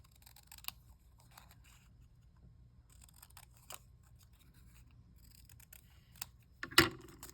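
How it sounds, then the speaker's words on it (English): Small scissors snip around a piece of stamped paper, quiet crisp cuts in short clusters separated by pauses, ending in a louder snap close by. "And now I'm going to just trim around this."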